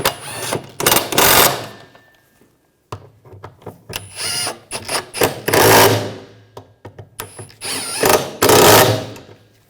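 Bolts are snugged down with a ratchet while an Audi A4 2.0L turbocharger and exhaust manifold are fitted, giving repeated bursts of close, loud ratcheting clicks separated by short pauses.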